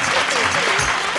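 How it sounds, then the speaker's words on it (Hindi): A television singing-competition audience breaks into loud, dense applause, a brief burst of clapping with a voice talking over it. "क्या बात है, जोरदार ताली"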